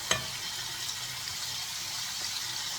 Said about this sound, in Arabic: بتقلبي كده كويس زي ما انت شايفه، وتتشوح الاول من غير اي حاجه